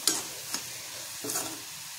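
Potato pieces frying in hot oil until golden brown, a soft steady sizzle with a few scraping stirs of a spatula breaking through, close and alone with no talking.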